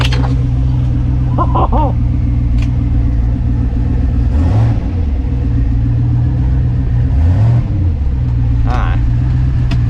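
A Winnebago motorhome engine revs up loud and close while in gear, the rumble swelling and falling through several throttle bursts, with someone speaking briefly over it.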